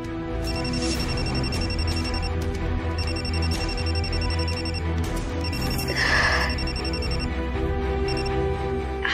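A telephone rings for an incoming call in a home setting, with repeated bursts of high electronic tones over a steady background hum and music bed, moderately loud throughout.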